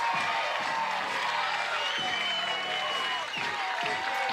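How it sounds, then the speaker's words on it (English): Cheering and clapping at a college softball game between Tennessee and Duke, a lively crowd wash with whoops over steady applause, dense and continuous, with voices mixed in. "a little applause in the dugout"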